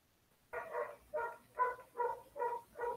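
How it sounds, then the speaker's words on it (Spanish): A small dog barks six times in a steady, evenly spaced series somewhere in a home, clear and moderately loud with no talking over it. "Escuchan a mi perrito por allá"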